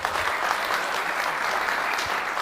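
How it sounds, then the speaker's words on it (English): A steady round of applause from a crowd in a conference hall, dense and continuous clapping throughout. "a round of applause again"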